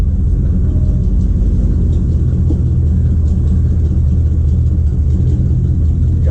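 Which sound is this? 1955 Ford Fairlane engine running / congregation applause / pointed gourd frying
1955 Ford Fairlane engine running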